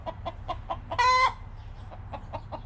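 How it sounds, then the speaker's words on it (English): Two molting hens cluck in short, regularly spaced calls. One louder, strained squawk rises briefly in the middle, and a low hum continues underneath. "Those are the 2 hens that are molting."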